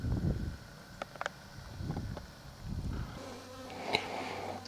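Bees swarming around a van's muffler outdoors, a close buzzing drone that swells and fades in waves as insects pass the microphone, with light wind noise.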